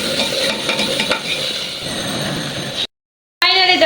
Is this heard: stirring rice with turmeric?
yes